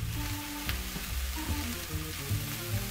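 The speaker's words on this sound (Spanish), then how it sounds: "cuando el ajo ha tomado un pelín de color, le ponemos la cebolleta. Le voy a poner una pizquita más de aceite" Chopped spring onion and garlic sizzle and crackle in hot olive oil in a pan for a vegetable pisto, giving a steady, close frying hiss with small pops and occasional stirring knocks.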